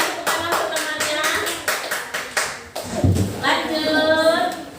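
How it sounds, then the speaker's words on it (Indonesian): Classroom students clap for their classmates in a steady, even rhythm of sharp hand claps, then the clapping stops and voices, including children, speak and sing close by. "Bagus sekali, tepuk tangan untuk temannya."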